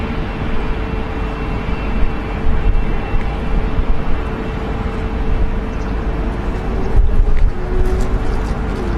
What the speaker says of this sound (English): Sound like an RB211